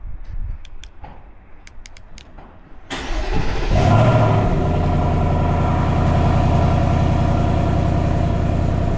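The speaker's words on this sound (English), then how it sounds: "This is the stock exhaust, non-active, dual tips." A Ford Mustang S650 on its stock non-active dual-tip exhaust starts after a few faint knocks, then settles into a steady, close, rumbling idle that holds to the end.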